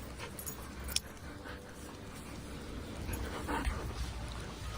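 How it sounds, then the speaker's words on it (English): A dog whimpers softly indoors, faint high whines coming in short bursts over quiet background noise, with a jangle of keys and some rustling near the start. "This one's my dog."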